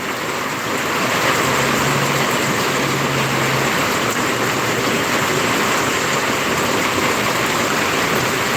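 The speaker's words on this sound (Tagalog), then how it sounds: "Ang lakas na naman ng ulan." Heavy, steady rain during a typhoon, a dense continuous roar with a faint low hum in the background, loud and unbroken throughout.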